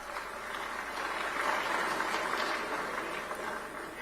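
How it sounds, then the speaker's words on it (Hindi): An audience in an auditorium in Jaipur applauds the arrival of the Prime Minister at a government scheme launch: a steady, moderately distant wash of clapping that rises and then tapers over a few seconds. "ये तालियां इस बात की सूचक है कि इंतजार खत्म हुआ, माननीय प्रधानमंत्री जी आ रहे हैं।"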